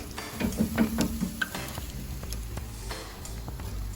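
Spare ribs, wings and shrimp cook on a grill with a soft, steady sizzle, broken by occasional clicks and knocks of utensils near the mic.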